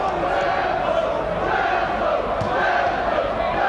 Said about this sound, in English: And their crowd find their voice as well